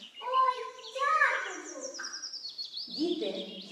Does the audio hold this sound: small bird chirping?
yes